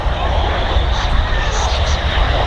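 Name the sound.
Mitsubishi CRJ 900 aircraft flying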